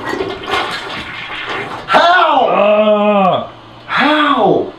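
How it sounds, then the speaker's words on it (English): A nearly overflowing toilet flushes loudly up close, its rushing gurgle rising and falling in two surges, with voices and groans heard around it. "This is probably gonna overflow if I try and flush it."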